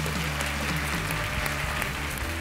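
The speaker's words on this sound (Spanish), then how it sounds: "Fuerte el aplauso." Audience applause at a televised singing competition battle round, a loud, dense clapping crowd sustained throughout, with music faintly underneath.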